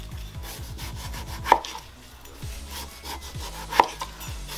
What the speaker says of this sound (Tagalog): Ngayon, pagka nagtalop kayo ng honeydew, kailangan ho, ma-maintain nyo yung shape niya.